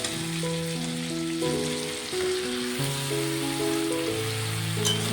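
Cauliflower frying with potato and tomato in a pan sizzles continuously and evenly, close and moderately loud, with no talking.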